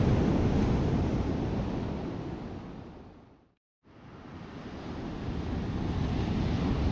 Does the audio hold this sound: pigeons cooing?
no